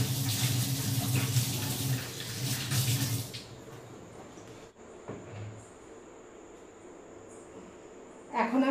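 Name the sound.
washing chicken under running tap water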